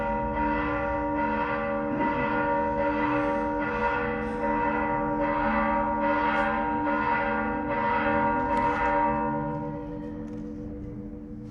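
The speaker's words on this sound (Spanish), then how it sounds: "Dejen que acaben las campanas porque luego ni dejan oír acá." Church bells ring in a steady, repeated pattern of strikes, loud and close with a dense, sustained ringing tone that carries through the whole stretch and eases slightly near the end.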